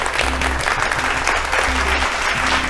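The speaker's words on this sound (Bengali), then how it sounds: "জোরে হাততালি দুজনের জন্য" A studio audience on a family quiz game show bursts into loud, dense applause that fills the short moment, close and sustained with no break.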